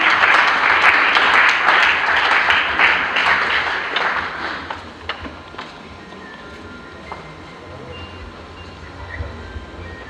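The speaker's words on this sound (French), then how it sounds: "Applaudissez s'il vous plaît" Applause at a funeral service welcomes the pastor, a crowd clapping loudly for about four seconds before it dies away into a quiet room with scattered faint sounds.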